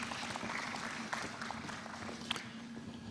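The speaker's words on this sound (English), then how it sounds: "Another round of applause, ladies and gentlemen." An audience at an NSSF Smart Card launch event gives steady, fairly faint applause that fills the room from a distance, with a low hum underneath.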